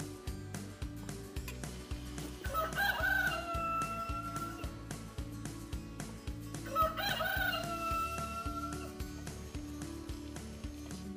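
A children's cuckoo clock with interchangeable animals plays a rooster crow twice over a steady, rhythmic tune, fairly quiet and alone.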